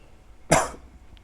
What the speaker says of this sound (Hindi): बहुत तेज़ की खांसी है